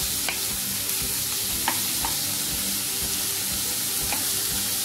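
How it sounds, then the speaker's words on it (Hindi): Chopped onions frying in hot oil with sautéed garlic and ginger, a steady, dense sizzle running throughout with occasional faint scrapes of a spoon stirring the pan. "चॉप्ड अनियंस हम इसमें ऐड कर रहे हैं।"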